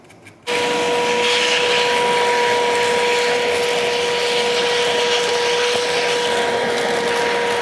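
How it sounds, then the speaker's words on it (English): A vacuum cleaner starts abruptly and runs at a loud, steady whine while cleaning coffee grounds from an espresso machine over a sink, with a constant high tone and no voices. "the vacuum helps a lot"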